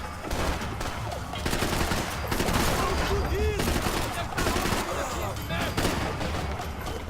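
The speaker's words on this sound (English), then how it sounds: "I'm shooting him in the stomach because I'm trying to get him to like stagger towards the, the thing and fall" Gunfire in Max Payne 3 as an enemy is shot repeatedly, a dense run of shots and bursts over continuous game action, with a speaking voice over the top.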